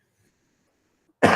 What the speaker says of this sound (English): Sweet cough.